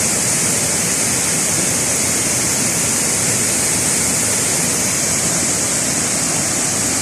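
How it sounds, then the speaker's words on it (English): Kachan waterfall in the rainy season roars loudly and steadily, a dense broadband rush of falling water that holds constant throughout with no voices. "Kachan waterfall in the raining season."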